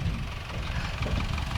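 Tractor engines from a county tractor fun run idle in a Veterans Day parade, a low, steady rumbling drone close by with no talk over it.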